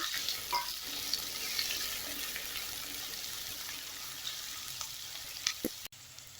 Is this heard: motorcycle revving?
no